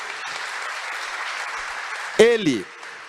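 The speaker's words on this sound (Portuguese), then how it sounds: "Pode dar uma salva de palmas para Ele." Congregation applauding during a Catholic homily, a steady spread of clapping throughout, with a voice calling out briefly near the end.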